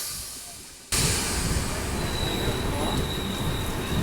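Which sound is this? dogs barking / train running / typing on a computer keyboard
train running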